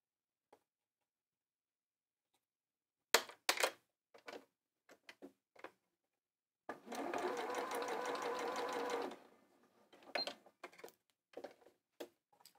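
A domestic sewing machine stitching fabric for a tunic, heard close up as scattered clicks and taps of the presser foot and handwheel, then a steady whirring run of stitching for about two seconds, followed by more sparse clicks.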